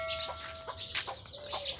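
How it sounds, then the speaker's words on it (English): A chicken clucks in short, soft calls amid a busy rural village backdrop in the Philippine countryside, with steady ambient noise and faint tonal hum, no talking. "Here's the chicken."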